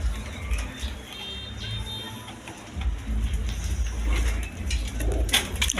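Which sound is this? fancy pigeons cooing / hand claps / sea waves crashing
fancy pigeons cooing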